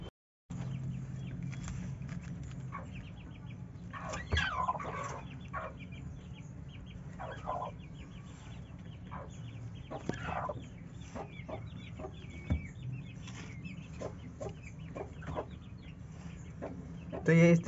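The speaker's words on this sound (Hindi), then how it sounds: "ये रही हमारी मुर्गी, कुड़क मुर्गी।" A broody hen in a cage gives repeated low clucks and occasional sharper calls at close range over a faint steady background hum, with scattered rustling and tapping in between.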